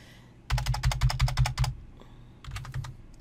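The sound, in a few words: typing on a computer keyboard, pressing backspace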